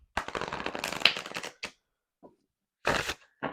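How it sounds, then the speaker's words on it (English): Gilded oracle cards are shuffled by hand in a close, steady riffling burst lasting over a second, then two shorter shuffles follow after a pause, with no talking. "So let's give them a shuffle."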